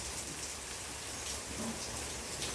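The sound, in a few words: rain falling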